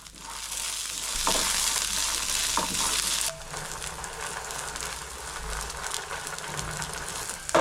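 Green chilies, peanuts and cumin sizzle in hot oil in a pan, a steady crackling fry with occasional stirring scrapes, close and moderately loud, no speech.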